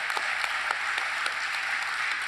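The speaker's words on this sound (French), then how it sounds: "Voilà, applaudissements" A conference audience at a real estate event claps steadily, with dense overlapping hand claps and a few sharper individual claps standing out.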